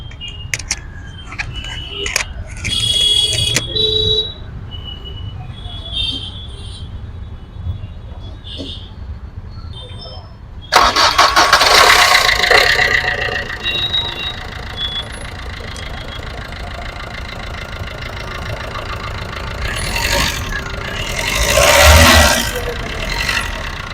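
A 2011 Maruti SX4 VDI diesel engine cranks and catches partway through, then settles into a steady, fairly loud idle with a brief rise near the end. Talk comes before the start.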